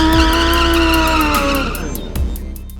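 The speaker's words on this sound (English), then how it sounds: "burning rubber" Loud close motorcycle engine roaring at high revs while doing a rolling burnout on a street, with a squealing tire tone that drops away as the engine note falls.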